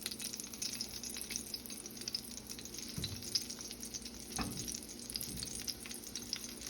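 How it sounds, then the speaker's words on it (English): Onion sautéing in a pan for quick refried beans, quiet steady sizzle with a couple of soft utensil scrapes, close but faint, no talk. "Kind of saute the onion."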